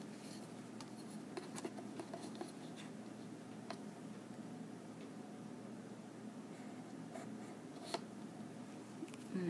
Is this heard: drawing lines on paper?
yes